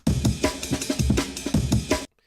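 A drum sample time-stretched in Ableton to a 163 BPM project plays loud and alone: a rapid funk breakbeat of punchy kicks, snares and ride cymbal that stops abruptly into silence.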